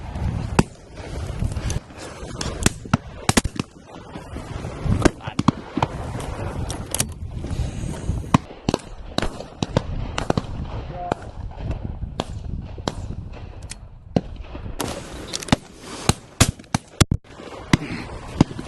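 Shotguns fire during a game shoot at Warter Priory, a run of sharp, irregular cracks, some close and loud, others fainter, scattered among outdoor noise and bits of conversation.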